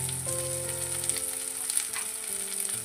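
Chopped onion hits hot spiced oil for a Bengali fish curry, giving a steady, close sizzle and hiss with a low hum running underneath throughout.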